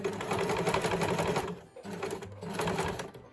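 A sewing machine runs a reverse stitch along bias binding on a sleeveless top, two close bursts of steady mechanical whirring with a brief pause between them, loud and alone.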